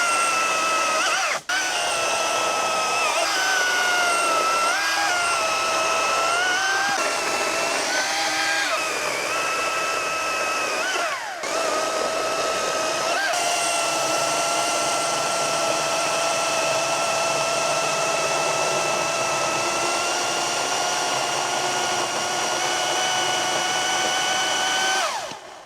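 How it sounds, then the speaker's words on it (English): A Cramer 82V battery pole chainsaw cuts through a 9- to 10-inch piece of timber, its high electric whine holding steady for a long stretch with shifting pitch as the chain loads and frees, loud and close, no talking. "I can honestly say that that is the most powerful pole reach chainsaw I have ever used"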